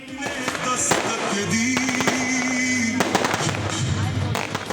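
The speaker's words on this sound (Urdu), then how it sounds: "خیرپور میں رات گئے آتش بازی کا مظاہرہ ہوا۔" A night fireworks display in Khairpur, Pakistan, during a nationwide celebration, heard as dense continuous crackling and popping bursts amid crowd noise and a whistling tone, loud and sustained throughout.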